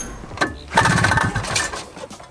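A 1979 Honda Odyssey FL250 two-stroke engine sputters and revs. It gives a brief burst, then a louder, ragged running stretch that fades toward the end, close by with no talk.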